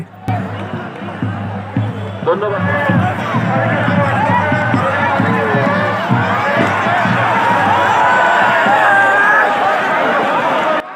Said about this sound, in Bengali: ইতিমধ্যেই মাঠে হাজার হাজার মানুষ ভিড় করেছে